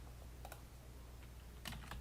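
Keys on a computer keyboard are typed at a PowerShell command line, a few soft clicks scattered sparsely and then a quick cluster of taps near the end, faint and close in a quiet room.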